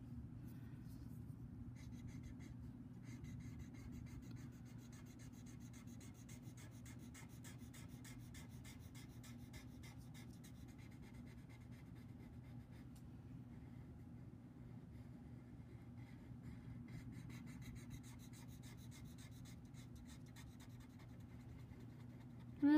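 Graphite pencil rubbed softly in small circles on drawing paper, a faint, close, continuous scratchy whisper with rhythmic strokes over a low steady room hum.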